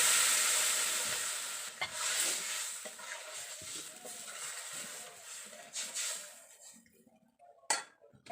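Water is poured into a pan of low-oil Bengali fish curry with raw banana and potato. A loud hiss bursts out at first, then fades into a softer, bubbling sizzle, with a few utensil clinks near the end.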